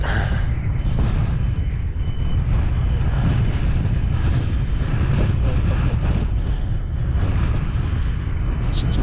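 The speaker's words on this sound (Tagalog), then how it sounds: "Malakas yung hangin." Strong wind at sea buffets the microphone in a constant loud, broadband roar throughout, with no break and no clear speech over it.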